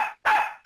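A dog gives two sharp, loud barks at close range with a short gap between them, and a third bark starts right at the end.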